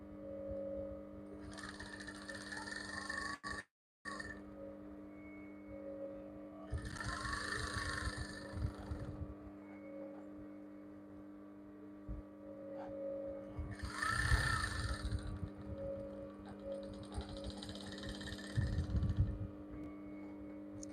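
A sewing machine joins trouser back pieces together in short bursts of whirring, clattering stitching separated by pauses, heard close up with a faint mechanical hum between runs.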